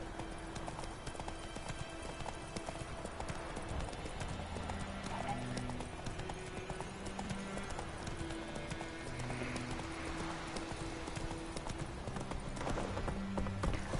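Roach, the horse in The Witcher 3, clip-clops steadily through the full stretch with a brief whinny, hooves set against an in-game music bed and a low ambient wash.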